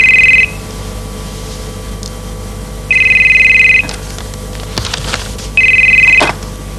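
A telephone rings three times in loud, steady electronic bursts separated by pauses, close to the listener in an otherwise quiet indoor room with faint rustling between rings.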